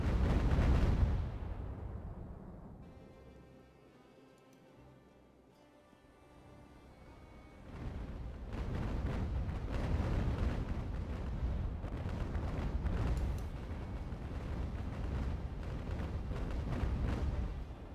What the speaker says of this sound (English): now I can get this ship to shoot at him